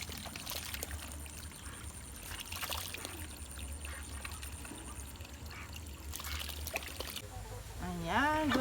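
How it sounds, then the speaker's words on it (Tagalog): Old drinking water is tipped out of a chickens' drinking and bathing container, giving a faint, steady pouring splash in the morning. A chicken calls briefly near the end. "Tinatapon ko yung dati niyang tubig para malinis ang kanilang"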